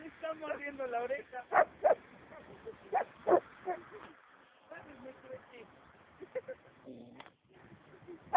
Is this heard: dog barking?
yes